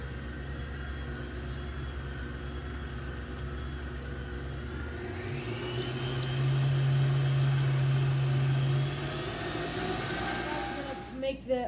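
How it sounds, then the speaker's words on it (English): An electric mixing machine churns cheesecake batter with sugar, a steady motor whir that runs throughout and rises in pitch and loudness partway through as the speed increases, with a brief clatter at the end. "Now we're gonna put it to the mixing machine."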